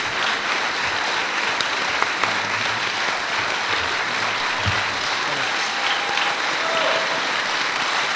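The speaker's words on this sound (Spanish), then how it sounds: "creo que los aplausos han dicho las gracias enormes" An audience in a lecture hall applauds after a talk on dream and reality in Latin America, a dense, sustained wash of clapping that holds steady throughout.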